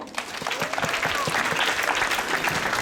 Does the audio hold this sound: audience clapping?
yes